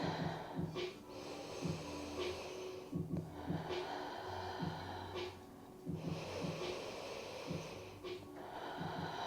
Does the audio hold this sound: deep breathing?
yes